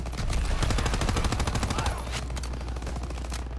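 Rapid automatic gunfire in a Call of Duty campaign mission, loud and close, a fast rattling burst that drops to steadier, sparser shots after about two seconds.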